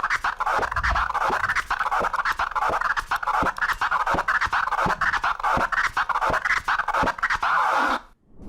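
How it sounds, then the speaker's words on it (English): Crab scratching on a DJ turntable, with the record released as it swings back and forth, makes a long, steady run of sharp rhythmic chirps, loud and close, cutting off at the end. "if we release the record going back and forth, it would sound like this"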